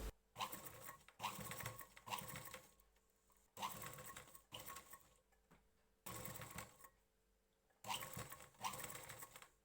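A sewing machine stitches down folded piping on a blouse in repeated bursts of rapid whirring patter, each lasting about a second, with short quiet gaps between runs.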